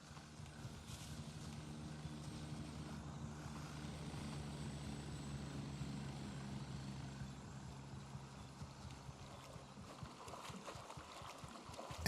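A helicopter flying in the military shooter game Gray Zone Warfare: a faint, steady rotor and engine drone heard at a distance, with no talk.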